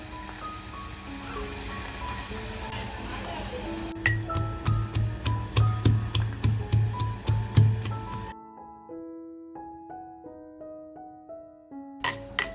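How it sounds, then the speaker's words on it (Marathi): Garlic and ginger pounded finely in a mortar for a village-style mutton curry, a regular run of about a dozen close, sharp thuds over a music bed, then stopping as the music carries on alone. "जी लसूण घेतली आहे ती लसूण आणि आल्याचा तुकडा हे बारीक ठेचून घेणार आहे"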